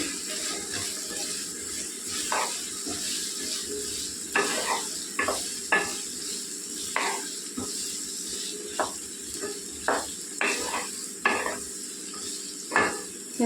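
A spatula repeatedly stirs and scrapes cucumber and potato curry in a pan, making steady gentle sizzling with distinct scraping strokes every second or so, close and clear, with no talking.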